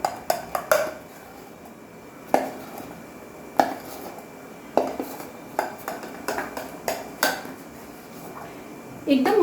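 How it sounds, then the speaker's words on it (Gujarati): Millet idli batter mixed with Eno in a bowl, heard as a series of irregular clinks and knocks of a spoon against the bowl, fairly close, with quiet gaps and a voice occasionally heard. "નાની અડધી ચમચી જેટલો ઈનો એને આપણે થોડું બરાબર હલાવી લઈશું"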